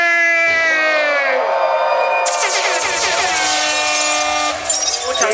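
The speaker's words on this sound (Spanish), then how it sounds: "Quiero que hagan fuerte ruido para el" Loud crowd roar with whoops and horn-like blasts rising for a rap battler at a Red Bull freestyle battle event in Dakar, swelling sharply partway through and sustained to the end.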